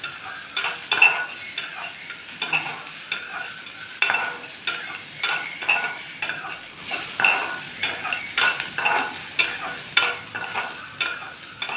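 A spoon stirs amla rice in a pan in steady, repeated scraping strokes, close and moderately quiet, with a light sizzle underneath and no voices.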